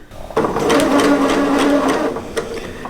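A sewing machine runs in one steady burst of fast stitching on small fabric pieces for quilt piecing, close and loud, starting abruptly and stopping before a couple of light clicks.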